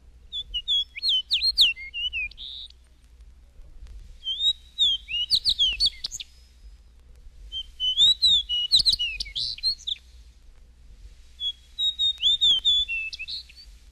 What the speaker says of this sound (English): Fox Sparrow.